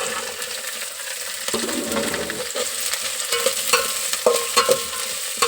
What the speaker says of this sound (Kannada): ಎಣ್ಣೆಗೆ ಸ್ವಲ್ಪ ಉಳ್ಳಾಗಡ್ಡಿ ಮೆಣಸಿನ್ಕಾಯಿ ಫ್ರೈ ಆಗಲಿ. ಈಗ ಇಷ್ಟು ತರಕಾರಿ ಹಾಕ್ಕೊತೀನಿ ನಾನು.